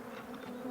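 Honeybees busy in the bottom box of a hive make a dense, steady buzzing hum, close and continuous.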